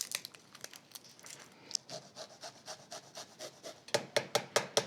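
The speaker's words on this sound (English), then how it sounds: "So I'm going to use my microplane and grate these." Garlic being grated on a microplane, a close series of rapid scraping strokes that start soft and irregular, then grow louder and settle into a steady rhythm near the end, with no talk.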